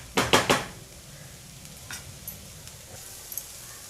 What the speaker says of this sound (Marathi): ही भुर्जी आपण अशी छान परतून घेत राहूया